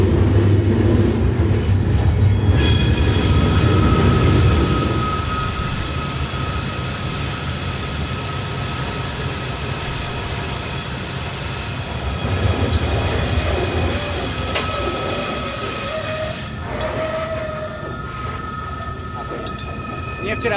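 A moving train rolls through Mexico with a loud rumble and rail noise, joined by a long, sustained metallic wheel squeal that rings through most of the stretch.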